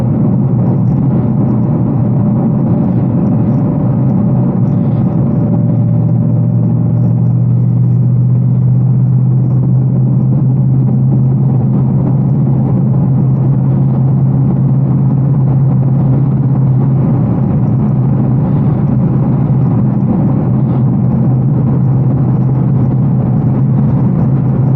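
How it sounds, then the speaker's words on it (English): An 810-horsepower RTR Mustang GT makes a long acceleration pull on the street, its engine a loud, continuous low rumble and whir that climbs steadily and holds for many seconds with no talk. "Up here we'll be able to do a pull so y'all can get a good feel for the acceleration, like a long distance acceleration"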